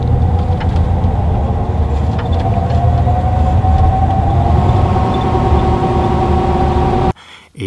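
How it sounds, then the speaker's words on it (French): Rear differential of a converted camper van with a fault, racing and whining as the van accelerates: a steady engine and driveline drone with a rising tonal whine, loud and continuous until it cuts off abruptly near the end. "Mon différentiel, dès que j'accélère, il s'emballe. Ça vient de derrière."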